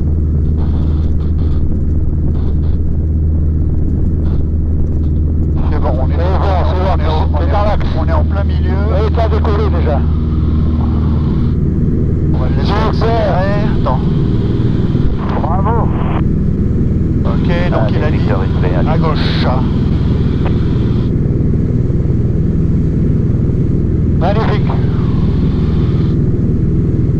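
Small aircraft engine drones loudly and steadily as the plane accelerates down a sloping strip for takeoff, with people talking over the continuous roar.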